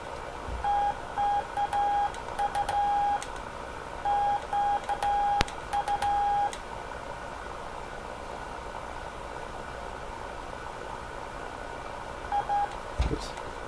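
Morse code tones from a Heathkit SB104A transceiver: a single steady pitched beep keyed in short dots and dashes in several bursts over a constant receiver hiss, with a lone tone near the end.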